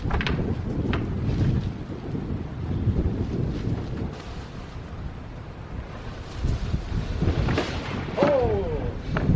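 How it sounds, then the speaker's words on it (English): Wind gusting over an old house roof during re-roofing, buffeting the microphone with a continuous loud low rumble and rushing noise, brief knocks and a faint voice at moments. "the wind is gonna give us some problems until we start shingling"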